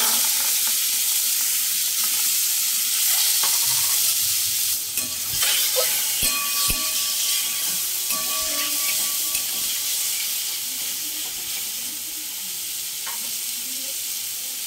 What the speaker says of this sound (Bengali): এবার আমি মাংসগুলো দিয়ে দেবো।